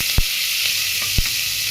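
Onions sauté in a hot pan with a steady close sizzle, while a spoon stirs them with a couple of brief scraping knocks.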